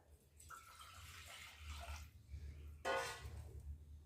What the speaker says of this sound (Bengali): জল দিয়ে নিলাম।